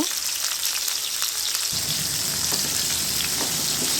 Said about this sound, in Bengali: যে মশলা মাখানো ঢ্যাঁড়স এখন আমি তেলের মধ্যে দিয়ে দিচ্ছি ভাজার জন্য